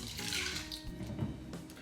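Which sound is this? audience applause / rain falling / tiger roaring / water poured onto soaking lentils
water poured onto soaking lentils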